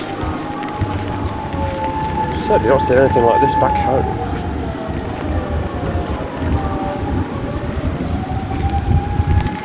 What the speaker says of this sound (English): I'm sure the sirens are nothing to worry about.